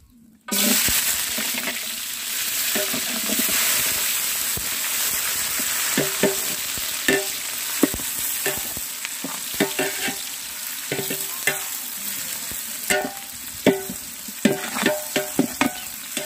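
Onions for vegetable meal maker biryani hit hot oil and fry with a lively sizzle, stirred by a spatula that scrapes and taps the pan in irregular bursts, close and clear with no voices.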